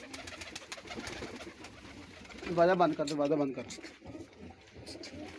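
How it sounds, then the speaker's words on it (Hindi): Galwa pigeons in a village coo in a soft, rolling burst, with people talking in Hindi over and around the calls. "ये जो कबूतर हैं इनको गलवा कबूतर कहते हैं, गलवा कबूतर।"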